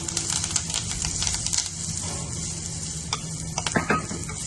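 Crushed pepper, cumin, garlic and curry leaves sautéing in oil for an aloe vera rasam make a close, busy sizzle broken by sharp spoon clicks and scrapes against the pan.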